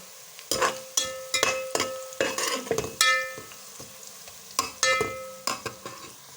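Sliced onions frying in a pan with whole garam masala and cloves, a soft sizzle under repeated clinks and scrapes of a spoon stirring against the pot, close and moderately loud.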